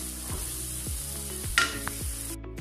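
Chicken biryani base sautéing in oil in a pan, a steady sizzle under repeated scraping stirs of a spoon, with a couple of sharper clinks near the end.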